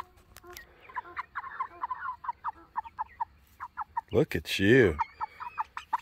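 A hen clucks repeatedly in short, close bursts, then lets out a louder drawn-out squawk; a person speaks briefly and softly underneath.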